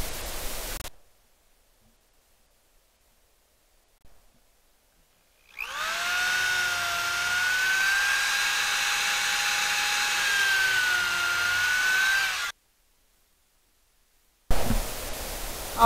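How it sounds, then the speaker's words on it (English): A cordless power drill bores pilot holes in parts for a chicken coop, a loud close whir with a steady pitch that runs for about seven seconds between stretches of near silence. "I got my drill out so that I could start making some pre-holes and putting it together."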